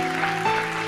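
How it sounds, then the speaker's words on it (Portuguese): A church congregation claps during a worship service, a brief wash of applause under sustained keyboard or organ chords. "Você pode aplaudir o Senhor? Aplauda o Senhor"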